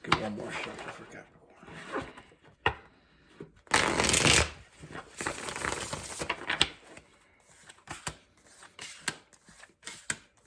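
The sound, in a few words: shuffling tarot cards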